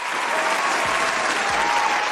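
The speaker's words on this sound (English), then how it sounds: "Give him a round of applause." Steady audience applause fills a short stretch at full density from start to finish, a continuous loud wash of many hands clapping with no voices standing out.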